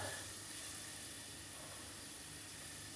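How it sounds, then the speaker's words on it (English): Oil and garlic sizzle in a pan while a lasagna and baked-beans dish is being made: a steady, quiet hiss that runs unbroken for the whole three seconds, with no talking. "now my oil's sizzling and the garlic is getting yellow"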